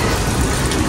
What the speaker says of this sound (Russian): Дождь льет очень сильный.